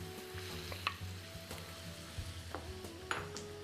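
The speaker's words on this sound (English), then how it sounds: "It looks like our onions are sauteing well." Onions sauteing in a pan give a gentle, continuous sizzle with a few light clinks and stirring scrapes, close and fairly quiet, with no voices.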